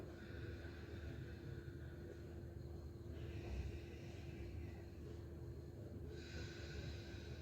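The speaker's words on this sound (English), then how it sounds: "Exhale from your right nostril." Slow, steady nasal exhale through one nostril during alternate nostril breathing yoga practice, soft and close, over a low background rumble with no talking.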